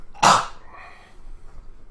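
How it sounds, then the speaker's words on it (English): A single close, forceful cough from a podcast host, one harsh burst followed by a breathy trailing exhale in an otherwise quiet room. "let me cough real quick"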